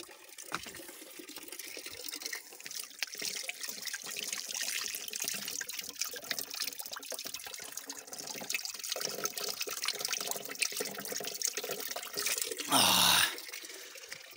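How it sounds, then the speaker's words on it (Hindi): Natural spring stream flowing without pause at a village water source in Chilianaula, a steady trickling and splashing wash of water, moderately close, with a brief louder gush near the end. "बिल्कुल शुद्ध पानी, ये देखिए 24 घंटे बहता हुआ।"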